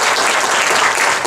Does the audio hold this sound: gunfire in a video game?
no